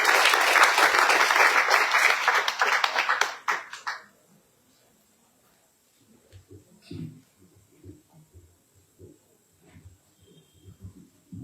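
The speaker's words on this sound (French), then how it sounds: "acclamez chaudement" An audience applauds the outgoing graduating class at a school ceremony, loud dense clapping for about four seconds that stops abruptly, followed by scattered quieter sounds and faint voices.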